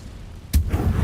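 An Expelliarmus disarming spell in a Hogwarts wizard video game lands as one sudden loud blast, then a rumbling tail over a steady low game ambience, with no voices.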